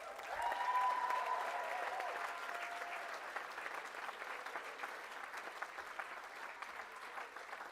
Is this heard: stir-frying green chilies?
no